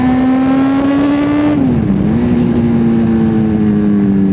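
A Kawasaki Z1000 R inline-four 1000cc motorcycle with a new exhaust accelerates hard through the gears. It produces a loud, continuous rising engine note, dips briefly at a gear change, then pulls steadily again, close by.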